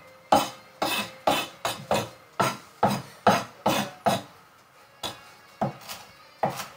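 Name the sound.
knife finely chopping food on cutting board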